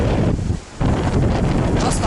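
Strong gusting wind on a mountain pass batters the microphone with loud, roaring buffeting, easing briefly for a moment before surging back in full force.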